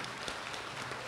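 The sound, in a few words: audience applauding the finalist teams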